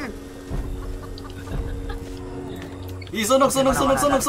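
Roblox game music and effects play, then a chicken breaks into loud, rapid clucking near the end, with a voice talking over part of it.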